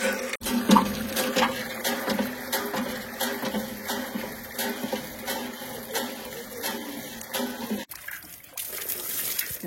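Water running from an outdoor tap while bathing, a continuous close splashing and trickling stream with small irregular spatters throughout, alone without talk.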